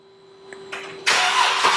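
A Jeep engine starts by remote start: a soft electronic tone and brief clicks give way to a short cranking burst, then the engine catches and settles into a loud, steady, close idle.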